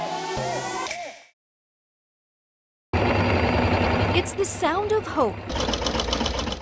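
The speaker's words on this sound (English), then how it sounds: "the whizzing of a sewing machine." A sewing machine whirs steadily while stitching headwear, starting after a short silence and running continuously under a voice.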